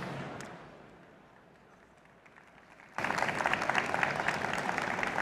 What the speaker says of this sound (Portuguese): Salva de palmas para o Silas.